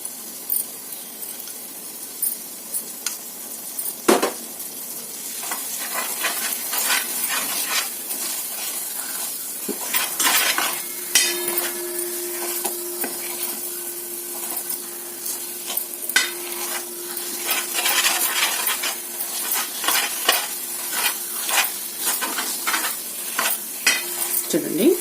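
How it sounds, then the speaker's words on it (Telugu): Ragi sweet being stirred as it fries in ghee, a steady sizzle and hiss with repeated scraping strokes of the spoon through the pan, close and continuous with no talking. "మళ్ళీ నెయ్యి వేసుకుందాం."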